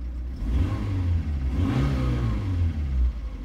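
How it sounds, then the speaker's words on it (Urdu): A 2005 Suzuki Baleno's car engine runs steadily close by, then revs up in a rising surge around the middle before settling back to a loud, even hum. "یہ جی اس کی انجن کی آواز جو کہ اچھی ہے"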